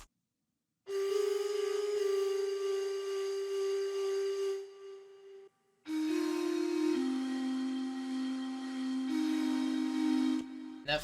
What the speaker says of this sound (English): That flute is a blown bottle under GM normal.